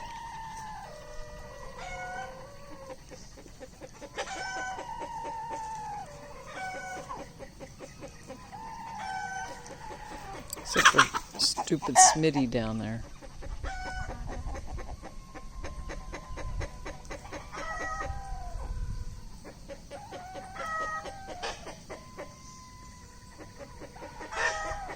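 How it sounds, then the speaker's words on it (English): Several roosters crow at different distances in the evening, one loud crow bursting out close by amid a busy farmyard of clucking, with a brief spoken remark. "That's a rooster"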